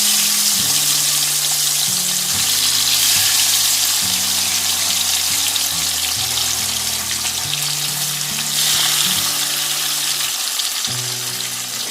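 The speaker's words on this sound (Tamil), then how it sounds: "இப்போ நம்ம மீனை ஒன்றா போடலாம் எண்ணெயில். மீன் போடும்போது கேர்ஃபுல்லாக போடணும்." Sardines frying in very hot oil in a pan, giving a continuous, loud, dense crackling sizzle that holds steady throughout with no speech over it.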